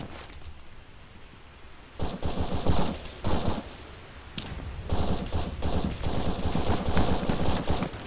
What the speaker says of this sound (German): Ich hör schon wieder Schüsse.